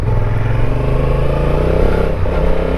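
A Honda Africa Twin motorcycle is ridden on a wet, slippery road, its engine a loud, steady, close drone with road and wind noise, no talking.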